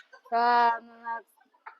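A free-range country hen lets out a loud, drawn-out cluck followed by a shorter one, then a faint chirp after a pause, close and otherwise quiet, on a farm also keeping rabbits.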